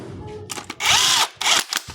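A power tool whirs in short bursts while tightening bolts on a Honda CBR 150 motorcycle, two loud close pulses with brief gaps between them.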